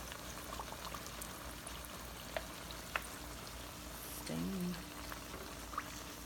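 Rolled tacos (flautas) deep frying in a fryer of hot, thickening oil at about 350 degrees, giving a steady low bubbling hiss throughout with a few brief pops and clinks, with no one speaking.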